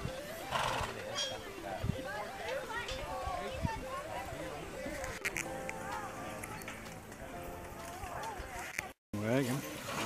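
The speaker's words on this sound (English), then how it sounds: "Beautiful horses, they're white." A team of white speckled horses at a pioneer village neighs and whinnies repeatedly while hooves clop on the ground, heard amid outdoor crowd noise and people talking nearby.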